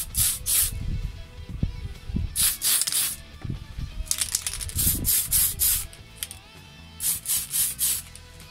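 Red spray paint hisses from an aerosol can onto a Tamiya Ford Escort model car body, coming in a steady series of short, close bursts with brief pauses between them and no voices.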